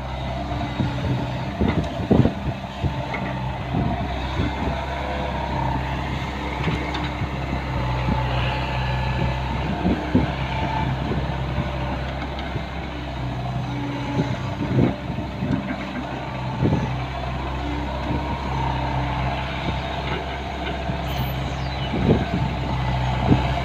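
A heavy truck engine idles and rumbles steadily nearby, with intermittent knocks and clanks over the low drone and no talking.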